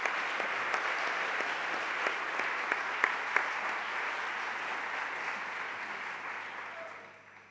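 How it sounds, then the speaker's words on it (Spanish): Audience at a closing conference session applauding steadily, a dense even clapping from a large room that holds for several seconds and then fades out. "Yo haría un aplauso para ellos."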